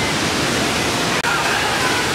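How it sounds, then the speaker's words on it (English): A loud waterfall in Ecuador roars as a steady, dense broadband rush that fills the whole span without a break, close and overwhelming. "here is the waterfall. It's extremely loud."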